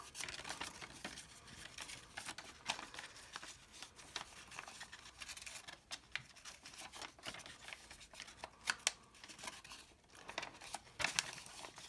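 Paper folded by hand at close range: soft crinkles, creases and light taps come in an irregular rhythm, quiet and with no talk.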